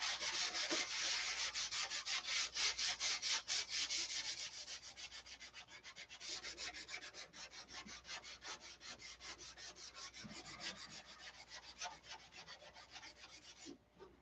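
Steady hand sanding with fine 600-grit sandpaper produces rapid, rhythmic back-and-forth scratchy strokes, close and continuous, louder at first and then slightly softer and even until they stop.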